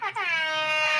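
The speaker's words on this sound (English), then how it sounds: "I love the air horns. I think that's my favorite sound now." An air horn blares once as a sound effect, a bright, loud, sustained blast after a brief initial honk, alone with no talking.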